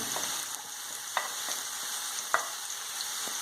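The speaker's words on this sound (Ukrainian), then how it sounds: "обсмажуємо до тих пір, поки цибулька не стане накенькою" Onion fries in oil together with mushrooms, giving a constant quiet sizzle and occasional sharp spatula taps against the pan, with no voices.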